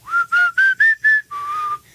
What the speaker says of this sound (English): Sometimes I like to just go and whistle in a whole crowded room.